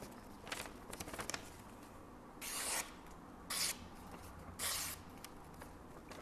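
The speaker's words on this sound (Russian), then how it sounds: "И проверим рез на газете." A freshly sharpened knife slices through newspaper in three brief, close swishing cuts, with faint rustling of paper between them.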